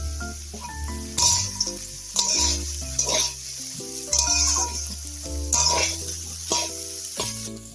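Cashews and raisins sizzle steadily in a hot pan while a spoon scrapes and stirs them in repeated strokes, close and fairly loud, with no talking.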